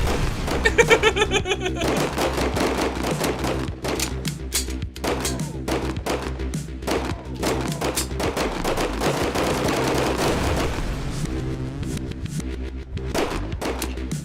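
Video game gunfire as an enemy shoots his weapon: a dense, continuous string of rapid shots and impacts layered over steady game music and ambience, with occasional faint talk underneath.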